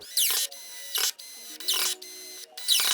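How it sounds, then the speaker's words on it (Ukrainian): A Dnipro-M CD-218 cordless screwdriver drives a screw until the clutch slips, giving four short bursts of whirring motor and rapid ratcheting clicks, separated by brief pauses, loud and close. "Я закручую до моменту спрацювання муфти."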